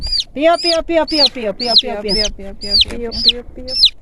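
Several children's voices repeatedly imitate a chick's high, rising peeps in quick, overlapping bursts.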